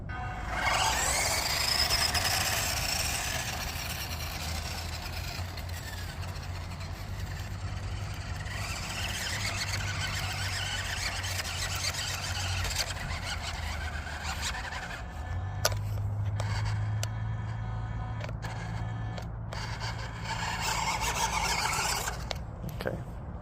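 A WPL D12 RC Kei truck drives through deep grass, its small electric motor whining steadily throughout with rising and falling pitch as it pushes through and bogs down, close by.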